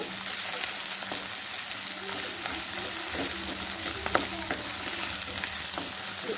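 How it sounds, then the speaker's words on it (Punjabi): Oil sizzles and crackles steadily in a hot pan over medium flame as spices temper for a ridge gourd curry, with sharp pops now and then and a faint clink of utensils. "ਇਹ ਮੈਂ ਹੁਣ ਪਾ ਦਿੱਤਾ ਹੋਇਆ ਜੀ ਤੜਕਾ"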